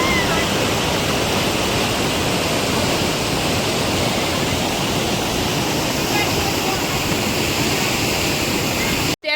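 Floodwater pours through a submerged village as a continuous, loud, roaring rush that stays even throughout and cuts off abruptly at the end.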